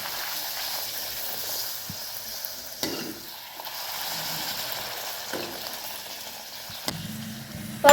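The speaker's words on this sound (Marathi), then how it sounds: "या प्रकारे आपल्याला दोन्हीकडून आलटून पलटून तळून घ्यायचं आहे" Puris deep-fry in moderately hot oil, a continuous close bubbling sizzle with a few sharp clicks and knocks as they are turned, no voices present.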